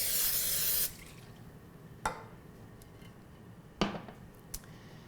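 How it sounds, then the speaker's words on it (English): A short, hissing burst of vegetable oil aerosol spray into a loaf pan, followed by quiet pauses and a few light clicks and taps. "now I'll spray our loaf pan"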